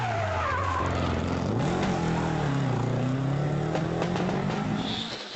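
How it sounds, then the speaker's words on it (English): Sunbeam rally car with alternator trouble, its engine misfiring on a modified stage at the Donegal International Rally, a loud continuous rasping drone whose pitch rises and falls as the car drives, with no talk. "Jeffrey Dolan is next up in the Sunbeam. It hasn't been an easy morning for Jeffrey with alternator trouble. And just listen for this misfire."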